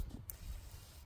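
Extra virgin organic olive oil is spritzed onto a cooking grill, two brief, quiet bursts of hiss, one early and one at the very end, over a low rumbling background with no talking.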